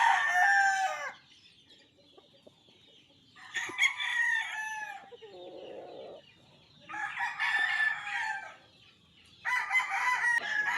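A rooster crows repeatedly in long, drawn-out calls at moderate distance, with softer clucking from chickens in the quieter gaps between crows.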